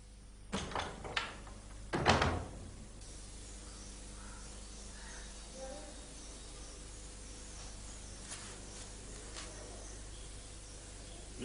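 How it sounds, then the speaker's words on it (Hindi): A door thuds shut a few times in quick succession near the start, followed by a quiet room hum with faint scattered shuffles. "दरवाजा बंद कर दो,"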